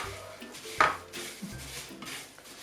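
Semiya vermicelli browning in ghee for payasam is stirred in a pan, making soft scraping and clinking utensil sounds with one sharper metallic knock, quiet and close, and no talking.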